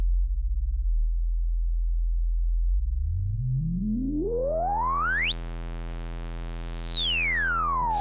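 Moog Mother-32 synthesizer holding a low, pure sine-like drone for about three seconds, then sweeping steadily upward into a bright, piercing high tone before easing back down, loud and alone with no voices.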